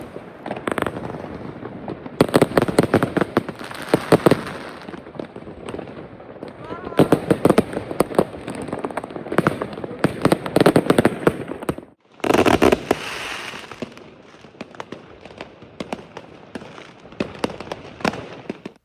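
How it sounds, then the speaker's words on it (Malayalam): Fireworks and firecrackers burst on New Year's Eve in the Netherlands, a loud, near, continuous barrage of sharp cracks and booms with one brief lull before the explosions resume. "അവർ ട്രക്കിൽ കൊടുന്ന സാധനം ഇറക്കി ഇതേ പടക്കം പൊട്ടിച്ചും കൊണ്ടേയിരിക്കുകയാണ്"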